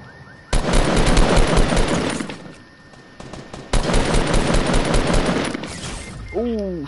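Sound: gunfire in a video game, player sniped

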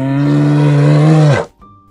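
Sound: polar bear growling

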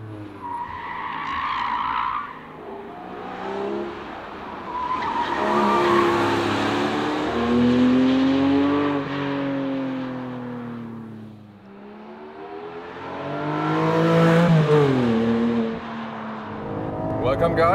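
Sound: Porsche 718 Cayman GTS 4.0 race car driving on racetrack

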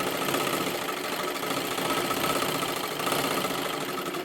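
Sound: sewing machine stitching silky fabric edges

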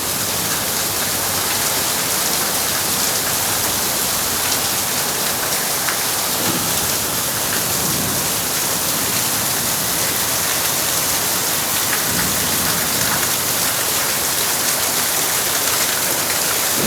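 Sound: heavy rain falling

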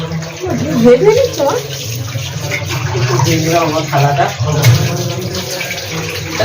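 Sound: washing dishes with running water

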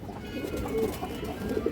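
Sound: pigeon cooing

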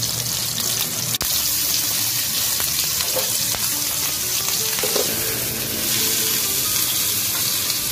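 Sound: mutton chaap frying in a pan

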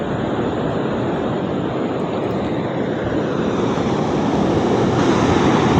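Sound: sea waves crashing near the shore

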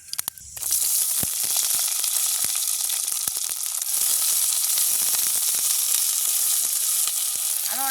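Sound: onion, chili and curry leaves frying in hot oil

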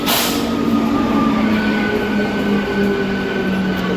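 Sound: train arriving at station

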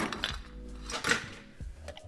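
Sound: fresh ice added to a glass

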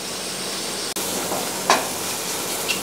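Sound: mushrooms sautéing golden with onions

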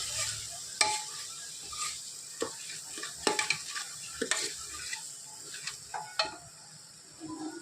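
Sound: sautéing onion-garlic masala in butter in a pan

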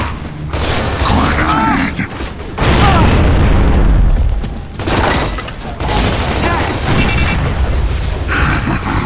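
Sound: grenade explosion in video game Gears of War 3

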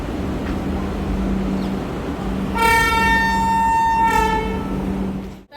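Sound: train at railway station platform

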